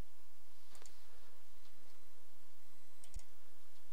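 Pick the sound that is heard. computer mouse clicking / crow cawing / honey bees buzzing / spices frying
computer mouse clicking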